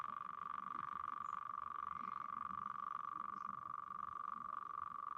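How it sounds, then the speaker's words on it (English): Crickets chirping in a room as heard over a video call, a constant high, buzzing trill that runs unbroken at a low, steady level with no talk over it. "somebody says you must have crickets in that room, Molly"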